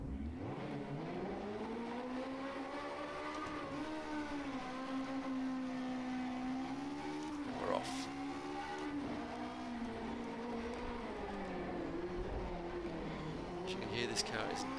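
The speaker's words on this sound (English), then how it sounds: "driving the absolutely insane Group H Special Ford Escort Mk2b" A Group H Special Ford Escort Mk2b rally car in rFactor 2 climbs the twisty Ritsona hillclimb, its engine note revving up and falling back continuously as it shifts and brakes through the bends, loud and close throughout.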